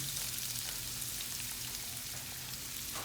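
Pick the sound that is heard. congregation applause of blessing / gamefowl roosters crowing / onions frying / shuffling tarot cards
onions frying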